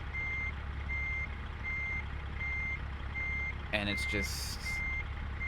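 Reversing beeps from a Kenworth T680 truck in American Truck Simulator pulse steadily in an even rhythm over a constant engine drone, with a brief air-brake hiss and a short spoken remark near the end.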